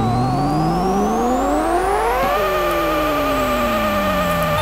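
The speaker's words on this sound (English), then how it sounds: "we do need to hear this car sound" A Toyota Prius engine, loud and close, revs upward steadily with rising harmonic tones, peaks sharply, then drops back and holds a slowly falling whine.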